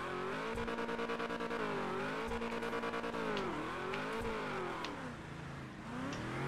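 A car in the FiveM video game revs hard and accelerates, its engine note climbing and dipping in repeated surges, loud and close, with no talk over it.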